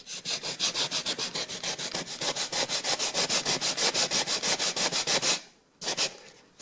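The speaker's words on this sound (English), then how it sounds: "But yet I still have a corner here to sand this top edge." Rapid back-and-forth rubbing of a foam sanding pad along the top edge of painted wooden crown molding, a loud, even rasping rhythm of about twenty strokes that stops briefly, then resumes.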